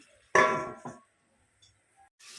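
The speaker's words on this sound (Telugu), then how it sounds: "మూత పెట్టేసుకుందాం" A single sharp metallic clang as a lid drops onto a cooking pot of chicken, followed by a lighter clink and then near silence.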